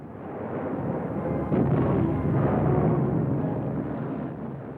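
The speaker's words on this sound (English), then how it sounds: "37mm guns join in the anti-aircraft barrage" WWII anti-aircraft barrage with 37mm guns joining in, heard as a dense, continuous rumbling roar of overlapping distant firing that swells loudest midway, with no separate sharp shots standing out.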